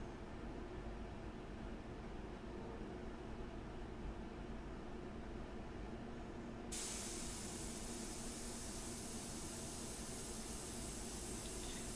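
An airbrush sprays India ink over a portrait painting: a steady, close, soft hiss that jumps noticeably louder and brighter partway through, then continues evenly with no talking.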